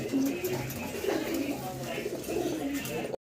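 Large white fancy pigeons at a breeder's loft coo in repeated low, throaty bursts close by, with a person talking over them.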